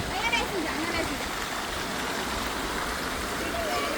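Steady rushing water flows throughout in a dinosaur theme park, a continuous broadband wash like a stream, with faint scattered bird calls over it.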